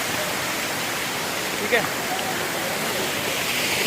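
A natural waterfall beside the Kedarnath trekking path roars as a loud, steady broadband rush that fills the whole clip, with someone briefly speaking over it.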